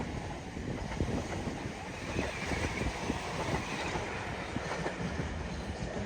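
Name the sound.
Class 377 and Class 444 trains passing at Clapham Junction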